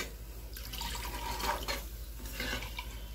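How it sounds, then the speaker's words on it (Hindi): Water poured into a cooking pan for a papad curry, a steady liquid pouring and splashing sound with faint dripping, close and continuous for a few seconds without talk. "मैंने ये पानी ले लिया और डाल दिया।"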